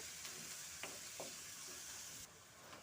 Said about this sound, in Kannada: ದೊಡ್ಡದಾದ ಹೆಚ್ಚಿರುವಂಥ ಈರುಳ್ಳಿ ಎರಡು ಇದನ್ನು ಎಣ್ಣೆಯಲ್ಲಿ ಚೆನ್ನಾಗಿ ಫ್ರೈ ಮಾಡ್ಕೋಬೇಕು